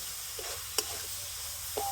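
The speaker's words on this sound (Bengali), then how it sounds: "আর এইভাবে নাড়াচাড়া করলে গুড়টা তো ভালো মতো গলে যাবে।" A coconut and jaggery filling sizzles steadily in a pan while being stirred, with a few soft scrapes and one sharper clack of the spoon against the pan.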